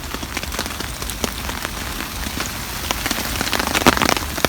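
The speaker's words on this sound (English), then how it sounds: "Water's dripping off corners, probably dripping down the guy lines" Rain pattering and dripping onto a camping tarp, with water running off the corners and guy lines; a dense, steady patter of close, sharp drops continues throughout.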